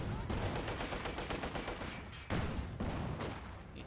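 A 45mm tank gun pours fire into infantry in Company of Heroes 2, a dense, continuous stream of rapid shots and battle noise, broken by two sharp, louder reports near the end.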